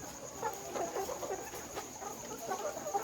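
Chickens cluck in short, scattered bursts throughout a poultry farm shed of laying hens, the calls fairly close and overlapping against steady background hum, with no talking.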